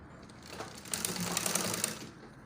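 A sewing machine stitches a turtleneck collar seam on a dress in a steady rapid mechanical run, close and fairly loud, starting softly and fading out at the end.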